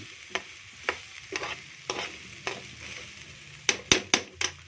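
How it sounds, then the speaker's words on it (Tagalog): Marinated mixture is stirred in a pan, a low sizzle under a series of scraping strokes and sharp spatula clacks, spaced at first, then quicker near the end. "Hukayin na muna natin siya para mag-mix yung pinatimpla natin."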